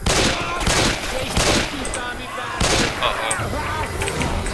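Left 4 Dead 2 gameplay fills with dense, rapid gunfire, loud and continuous in overlapping volleys, while players talk over the shooting.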